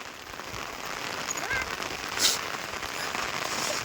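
Heavy rain pouring steadily during a days-long cyclone storm, a dense continuous hiss with a few sharp crackles, loud and close throughout.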